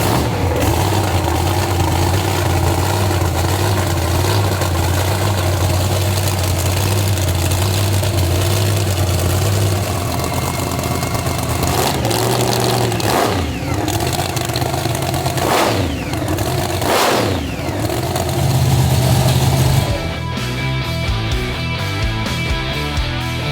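A monster truck engine runs loud and steady on a hub dyno, idling with rough, throaty rumble and shifting revs, then a brief surge before settling again.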